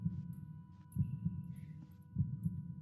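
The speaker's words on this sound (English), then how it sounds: "my ear pressed up against the egg, hearing the heartbeat" Heartbeat of a creature inside an egg, heard up close: soft low thumps in repeating pairs at a steady slow rhythm over a faint constant hum.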